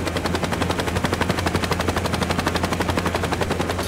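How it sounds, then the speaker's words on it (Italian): Helicopter in the Saints Row video game, a dense, steady rapid chopping of rotor blades with a low hum, loud and continuous throughout with no talk. "c'è un tizio dietro con un elicottero che palesemente lo sta seguendo"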